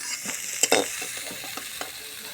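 Cauliflower and beans fry in oil in a pan, a soft sizzling hiss broken by several sharp scrapes and clinks of stirring.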